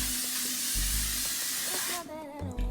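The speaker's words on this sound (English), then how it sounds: "So I'm going to go ahead and spray this." A makeup setting spray bottle releases a long, loud hiss close to the microphone, cutting off after about two seconds, followed by quieter room sound and a brief voice.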